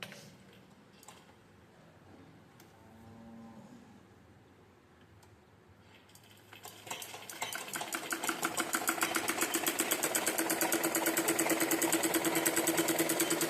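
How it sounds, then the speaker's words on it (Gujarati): Sewing machines at a village sewing class for women, starting quietly then whirring up after a few seconds into a steady, loud, fast mechanical rattle that runs continuously to the end, no talk. "જુઓ બધા બહેનો આ સંચા છે અહીંયા"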